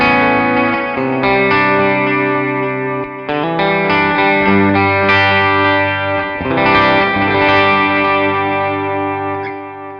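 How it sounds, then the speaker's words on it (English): Electric guitar played through a Tech 21 Richie Kotzen RK5 Fly Rig with overdrive and a classic delay into an amp, sustained chords and notes ringing loud and alone with trailing echoes and a slight warble. "It's a classic delay."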